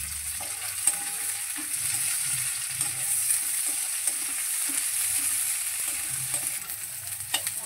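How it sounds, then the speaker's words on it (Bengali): Chopped onion fries with potatoes in a pan, producing a steady high hiss with soft stirring scrapes and occasional taps, heard close by with no speech. "পেঁয়াজ কুচি দিয়েও কিন্তু আমি 1 মিনিট মতো আলুর সঙ্গে ভেজে নেব।"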